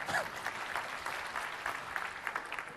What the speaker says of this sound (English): Applause, yes, applause is always good.